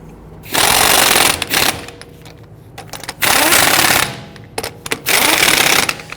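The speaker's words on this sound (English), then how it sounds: "once we get them started, we'll go ahead and snug them down" Lug nuts on a 2010-2019 Ford Taurus are snugged down with a power tool, three loud, close buzzing bursts of about a second each, separated by quieter gaps with small clicks.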